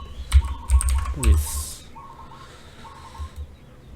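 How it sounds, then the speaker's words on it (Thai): Quick keystrokes on a computer keyboard as someone types a search into the Windows Start menu, a short burst of close clicks followed by quieter background with a faint voice. "ไปที่สตาร์ทนะครับแล้วพิมพ์คำว่า service"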